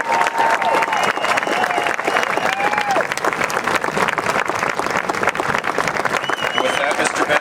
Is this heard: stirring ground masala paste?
no